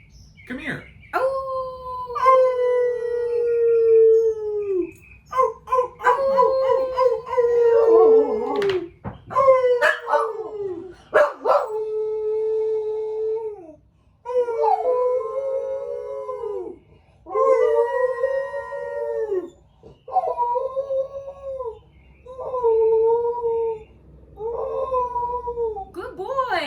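Several dogs howl together, loud and close, in long wavering howls broken by short pauses, with occasional barks mixed in.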